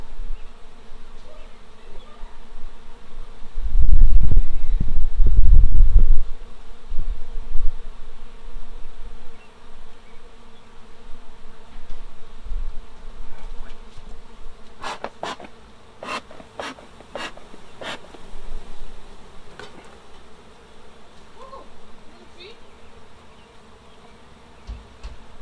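Bees humming steadily around an open hive during an inspection, a continuous buzzing drone with a few louder bumps and scrapes from handling equipment early on and sharp clicks later, no talk.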